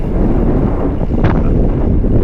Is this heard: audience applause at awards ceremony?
no